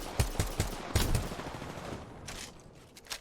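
Rapid video game gunfire in a team battle, bursts of sharp shots fired in quick volleys early on, then scattered later shots at moderate distance.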